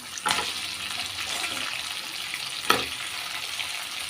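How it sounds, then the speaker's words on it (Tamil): Crab pieces go into a pan of onion and tomato already softened in oil, with a soft, steady sizzle, a clatter as they drop in and another sharp knock later. No one speaks. "இப்போ வந்து நண்டை வந்து சேர்த்துக்கிறேன்"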